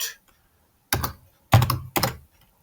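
Computer keyboard typing while coding in a mongoose schema controller: three short clustered bursts of clacky keystrokes separated by pauses, close and fairly crisp, with no talk.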